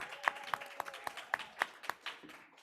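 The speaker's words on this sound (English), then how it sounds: "Let's give Ty a big round of applause" Sparse, irregular claps from an audience greeting a speaker after a presentation, a handful of distinct sharp hand claps spread over a couple of seconds, fairly quiet and roomy.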